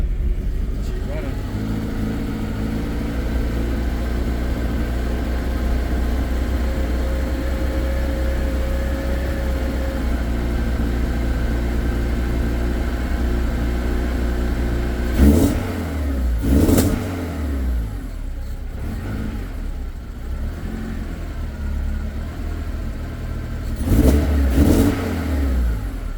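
A freshly swapped Honda K24A2 engine in a Mazda RX-8, on a base map with no tuning, idles steadily after a cold start, then gives two sharp throttle blips with a gap between them, loud and close.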